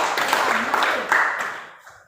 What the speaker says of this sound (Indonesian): kita berikan dulu tepuk tangan